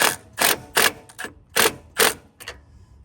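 A hand ratchet tightening down the front strut assembly on a 2007–2013 Chevy SUV or truck, giving several loud, close bursts of rapid clicking in an uneven rhythm with brief pauses between strokes.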